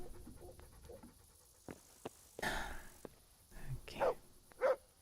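A dog barks and pants in the medieval video game Kingdom Come: Deliverance, a few short close barks near the end after panting and scattered footsteps, with someone talking.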